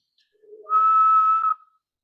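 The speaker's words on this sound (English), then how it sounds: "Let me try to whistle." A person whistles one short, steady tone that rises briefly before it, close to the microphone in a quiet room.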